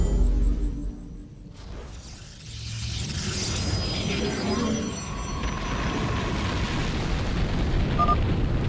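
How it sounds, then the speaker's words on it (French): Volcanic eruption event in the video game StarCraft II: a rumbling, booming blast with whooshing texture that swells after a brief drop and holds steady, loud and close, with game effects mixed in. "Éruption imminente."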